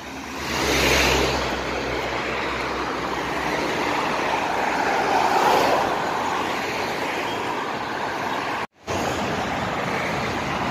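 Heavy road traffic in Saudi Arabia, with a continuous rushing roar of many cars passing nearby, swelling and easing as vehicles go by, and a brief dropout near the end.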